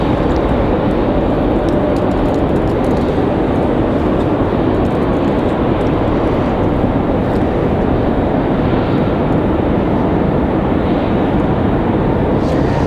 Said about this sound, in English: JetBlue getting ready to go. You can hear the engines spooling up.